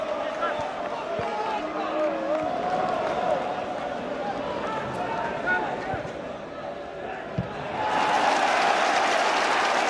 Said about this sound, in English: Celtic fans cheer everything he does at the moment